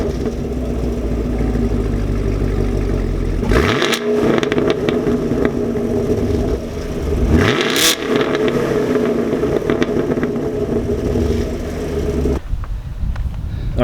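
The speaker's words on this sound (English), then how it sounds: "I'll just go ahead and start it again for you so you guys can hear it anyway." Ford Mustang GT S550 V8 with MPP active exhaust idling loudly up close, then two sharp revs that rise and fall around the middle, before the deep burble cuts off near the end.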